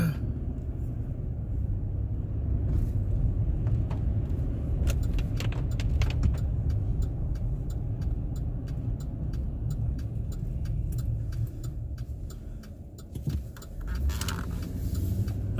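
A car drives along a street the morning after an ice storm, where electric wire lies on the road. Steady engine and road rumble run throughout, with scattered clicks and jingles inside the cabin.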